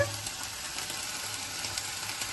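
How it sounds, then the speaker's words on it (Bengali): Ginger, garlic and onion paste frying in oil for a wedding-style goat curry, giving a steady, close hiss of sizzling across the whole stretch with no voices. "তেলের উপর আদা রসুন এবং পেঁয়াজ বাটা নিয়ে একটু ভেজে নিচ্ছি"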